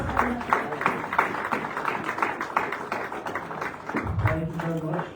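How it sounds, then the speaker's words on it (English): An audience at a State House award event gives a round of applause for the President of Sierra Leone, a moderately loud spread of many hands clapping continuously while voices carry over it. "It is time for a loud round of applause for His Excellency"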